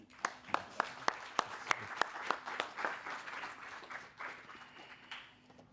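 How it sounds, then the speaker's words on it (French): A conference audience applauds to welcome the evening's speakers, starting with a few sharp separate claps that swell into a steady wash of clapping before fading out. "applaudissements."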